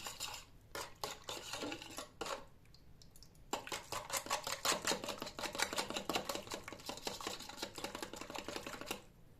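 A dissolving cleaning tablet mixture being stirred in a container with water for kitchen cabinet cleaning, rapid clinking and scraping of a utensil against the vessel, close and busy, pausing briefly before continuing, no speech.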